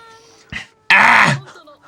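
A cat in an anime episode lets out one loud, drawn-out harmonic yowl that bends in pitch, preceded by a shorter, softer squeak amid quiet background sounds.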